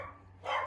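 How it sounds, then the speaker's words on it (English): Several excited dogs bark indoors, one short, fairly loud bark rising after a brief quiet stretch with a low hum beneath. "dogs are getting excited."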